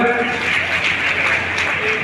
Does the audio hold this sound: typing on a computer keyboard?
no